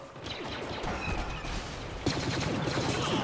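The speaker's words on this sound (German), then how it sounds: "Irgendeiner schießt da wieder auf mich." Gunfire in the video game Star Wars Battlefront: dense bursts of blaster shots and rattling fire crowd the whole stretch, growing louder and busier after a sharp impact partway through, with no voices over it.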